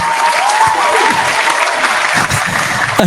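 Dense, loud applause from a crowd, steady and continuous throughout with a faint voice or tone running underneath.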